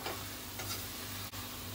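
Coconut barfi mixture with reduced sugar syrup is stirred in a pan over medium heat, making a close, soft scraping and faint sizzle with a few light ticks.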